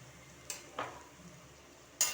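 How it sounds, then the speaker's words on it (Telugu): Potato fry being stirred in a pan: a few brief, separate scrapes and clinks of a spoon against the pan over a faint sizzle, quiet and close, with no talk. "ఒకసారి కలుపుకుందాం."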